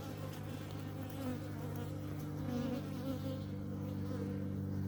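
Honey bees buzz steadily around a five-frame nuc hive as a caged queen is installed, a dense close swarm hum running continuously without talk.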